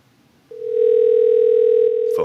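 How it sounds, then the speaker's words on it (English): A single steady ringback tone sounds on an outgoing phone call, a sustained pure beep lasting over a second that rises abruptly out of quiet, with a brief click or voice fragment at the end. "Phone is ringing."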